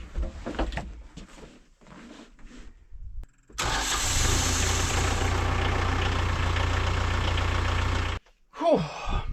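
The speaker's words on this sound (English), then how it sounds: "that was a relief to get that tractor going again" An off-grid tractor engine cranks after some quieter handling noises, catches, and runs loud and steady for several seconds before cutting off abruptly, followed by a brief clatter.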